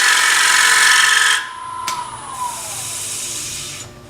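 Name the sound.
wood lathe turning a bowl, cut with a bowl gouge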